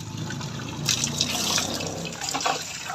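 Tap water runs steadily for bathing, a continuous splashing rush with slight surges as it fills, close and without any talking.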